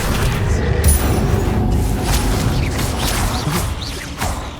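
Incendio fire spell cast in Hogwarts Legacy, a loud roaring, booming burst of flame with whooshing swells and crackle sustained for several seconds amid dense game combat noise.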